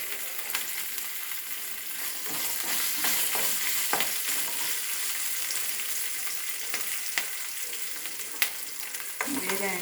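Ingredients for a Telugu bottle gourd chutney fry in a pan on a medium flame, a steady close sizzle broken by scraping clinks of a spoon stirring.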